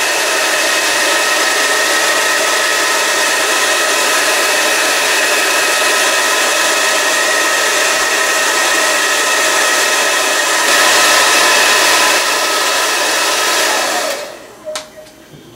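Steady, loud rush of a hot air gun blowing continuously to heat and soften the upper edge of a plastic Kholster holster for bending, cutting off abruptly near the end.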